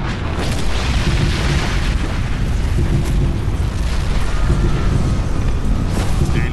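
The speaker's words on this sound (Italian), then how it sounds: "Il mondo intero è sconvolto dalle esplosioni atomiche." Atomic explosions in the video game Far Cry 3 Blood Dragon roar as one loud, continuous, rumbling blast of broadband noise that lasts throughout without pause.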